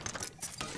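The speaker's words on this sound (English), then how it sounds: "Recharging my shield." A shield recharges in the battle-royale game Apex Legends, giving a faint, quick run of mechanical ratcheting clicks and whirs, like small gears turning.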